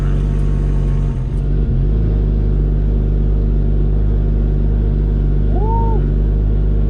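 A race car's engine drones loudly and steadily during a roll racing pass at Street Car Armageddon, a dense continuous rumble with a brief dip early on and faint whistling tones later.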